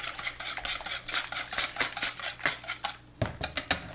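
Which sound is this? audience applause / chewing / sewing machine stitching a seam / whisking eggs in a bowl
whisking eggs in a bowl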